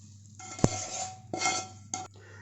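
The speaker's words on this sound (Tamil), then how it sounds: "இதில் அப்படியே மிக்ஸ் பண்ணிவிடுங்க." Tempered masala being stirred into mango pickle, with a sharp utensil clink against the pot followed by a few scraping stirring sounds, close and moderately quiet, no voices.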